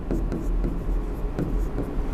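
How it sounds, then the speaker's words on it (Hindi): A pen scratches across paper while someone works through a reasoning mock-test problem, making short, close strokes at an uneven pace over a low background hum. "मैं लिखते जाता हूँ यहाँ पर।"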